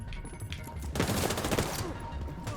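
Sustained automatic gunfire and rapid shots from the video game The Division 2, dense and continuous, with a heavier burst of fire in the middle, no talking.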